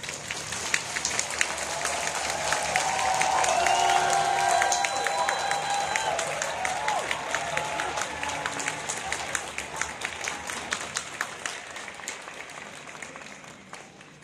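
A large outdoor concert audience applauds to welcome a national youth symphony orchestra, sustained dense clapping with scattered cheers that swells and then slowly fades over the whole stretch.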